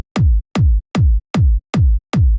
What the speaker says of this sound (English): only the kick sounds like this.